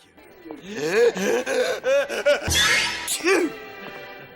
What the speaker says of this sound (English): I'm just a little embarrassed at my sneezes.